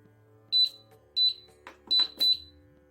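Kitchen cooking machine switched on in sauté mode, giving four short high electronic beeps in an uneven pattern, with soft handling clicks between them in a quiet room.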